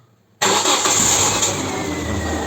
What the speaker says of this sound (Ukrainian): Включили запалення, запускаємо двигун.